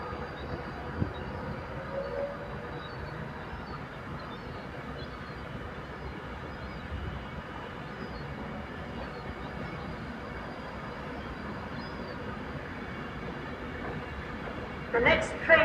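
An Avanti West Coast Class 390 train departs Crewe station, a steady, rolling rail rumble that runs throughout at moderate level, with a brief clatter of sharper noise near the end.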